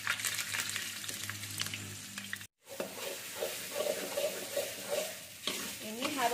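Two bay leaves fry in a shallow pool of hot oil in a pan, sizzling loudly up close while being stirred and scraped, with a brief silent break partway through.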